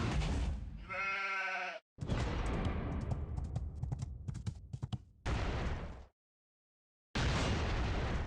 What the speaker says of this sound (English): Wait, why does the sheep explode?